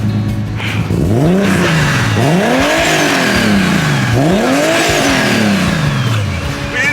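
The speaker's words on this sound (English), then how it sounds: "Jordan, can you give her a couple of revs for me?" A car recently converted with a turbo and a manual gearbox gets revved repeatedly, the engine swooping up and falling back in three rising-and-falling sweeps, loud and close with a faint turbo whine above.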